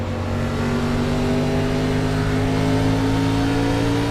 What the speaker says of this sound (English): Listening to those engine sounds backing down as they come around.